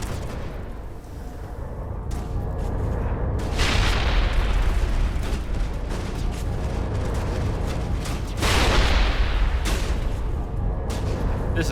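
Sustained booming gunfire and blasts from a Mass Effect firefight on Insanity difficulty, a dense continuous roar with heavier bursts surging around a few moments, loud and without talk.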